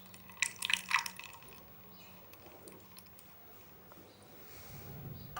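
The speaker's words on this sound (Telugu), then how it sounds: "2 నిమ్మకాయలు రసం వేస్తున్నా." Lemon juice from two lemons drips and trickles into a bhoti pickle mixed with mustard powder and salt, with a few soft wet drops early on, then quiet handling noise.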